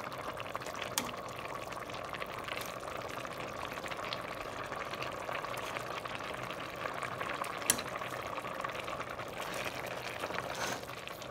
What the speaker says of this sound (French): Là, ça fait déjà 2 heures que le sakasaka il bout.